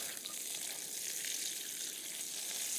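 Lake trout frying in a pan while being stirred, a steady close sizzle holding even throughout with no voices over it.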